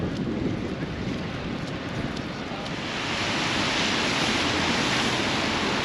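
Rain and wind outdoors on a walk from the train to the coach in Cardiff, Wales; a constant broadband rush and hiss of wind noise and rainfall that swells louder halfway through, with no voices.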